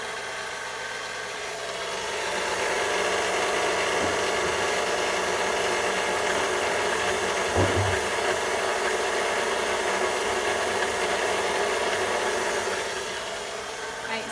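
Electric hand mixer beating flour into a foamy egg mixture for a Toll House pie, a steady whirring drone that holds nearly the whole time with a brief thump midway.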